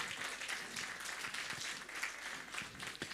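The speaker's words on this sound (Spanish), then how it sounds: "vamos a dar fuertes aplausos al coro Suyaña." Faint, distant applause fills a Sunday church service after the choir performs. The congregation claps in a soft, even wash with no voices.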